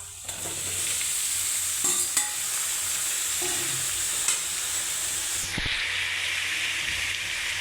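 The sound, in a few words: tomatoes sautéing in a pan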